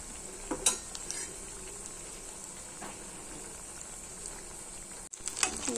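Banana batter balls deep-fry in hot oil with a constant soft, distant sizzle and bubbling, broken by a few faint utensil clinks and scrapes, and no talking.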